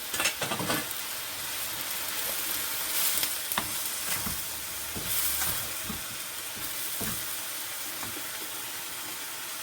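Noodles for Nigerian-style chicken and prawn chow mein fry in a pan with a steady, close sizzle, broken by a few clattering stirs and scrapes and no talk.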